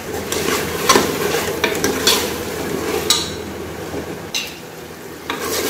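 Washed dal fries in hot oil with a steady sizzle, while a spoon scrapes and clinks against the pot in irregular strokes, close and moderately loud.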